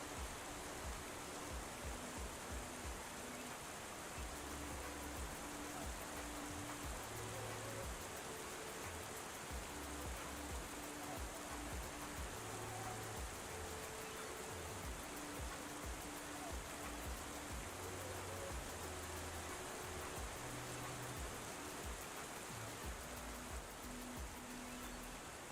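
Heavy rain falls steadily in the X-Plane 12 flight simulator, heard from a Cessna C172 during a Caribbean storm: a dense, unbroken hiss of rain with faint low tones underneath, constant throughout with no talk.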